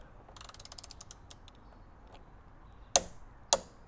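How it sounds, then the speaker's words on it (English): Torque wrench ratcheting quickly as it tightens bolts on a Fisker Ocean hood, a dense run of clicks followed by two sharp loud clacks, close up with no talking. "Now I can take the torque wrench, put it on the end, and get the final"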